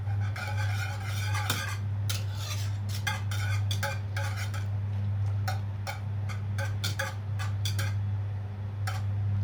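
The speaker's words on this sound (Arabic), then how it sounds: "بس طبعا مش هنوقف التقليب دلوقتي" A spoon scrapes and clinks in a pot of thickening qamar al-din apricot pudding, irregular taps and scrapes running steadily over a low constant hum, with no talking.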